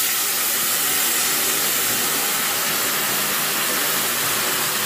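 Ground masala mixed with water hits a hot pan of chicken and sets off a loud, continuous steamy hiss that stays even and unbroken throughout.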